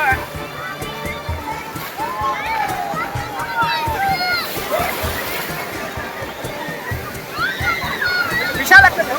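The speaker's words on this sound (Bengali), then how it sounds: "বিশাল একটা ঢেউ মারছে।" Big sea waves wash and slosh onto Digha beach in a churning roar under excited voices talking and shouting nearby, with surges of water rising and falling.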